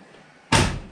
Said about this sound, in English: Close the door for effect.